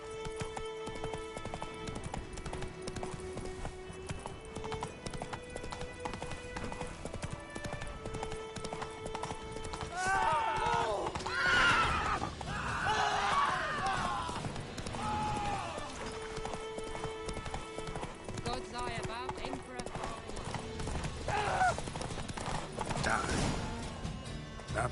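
Roach, Geralt's horse in The Witcher 3, gallops with continuous rhythmic hoofbeats and neighs, mixed with a musical score and game ambience at moderate volume throughout.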